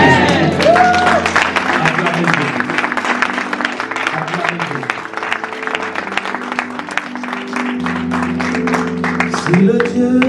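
A church congregation applauds and cheers for Jesus in a lively, sustained burst of clapping and voices, with a preacher speaking over the crowd throughout.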